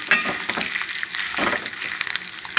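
Oil frying hard in a pan while curry leaf pickle is made, a loud continuous close sizzle and crackle broken by light stirring clicks, with no voices.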